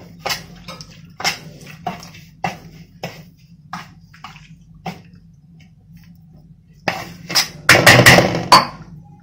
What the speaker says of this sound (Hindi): इसको हम चम्मच के हेल्प से गूंदेंगे क्योंकि पानी गर्म है।